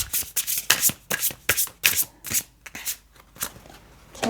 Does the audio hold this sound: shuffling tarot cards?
yes